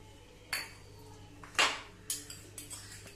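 A metal spoon clinks against a steel bowl of buttermilk as black pepper goes in for spiced masala chaas, a few sharp close taps and rattles spaced over a quiet kitchen.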